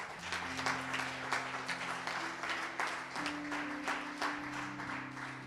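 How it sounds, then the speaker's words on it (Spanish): A church congregation applauds during a service, steady rhythmic clapping heard fairly faintly over sustained organ or keyboard chords that shift pitch midway. "Denle un aplauso al Señor."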